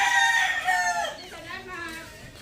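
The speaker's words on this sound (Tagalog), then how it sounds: "Daming manok ng tito" Fighting cocks crow loudly and close by, one long rising and falling crow with other roosters overlapping and clucking, in a yard holding many gamecocks.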